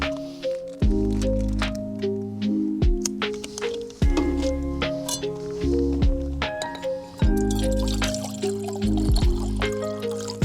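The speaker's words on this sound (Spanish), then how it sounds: "Abrimos una cantidad considerable de agua." A considerable amount of water is poured out in an abandoned village, with continuous splashing, dripping and liquid gurgling throughout, moderately loud, with no talk.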